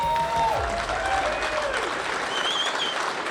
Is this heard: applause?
yes